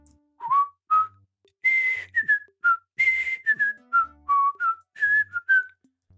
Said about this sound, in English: I'm going to whistle them so you can't Shazam them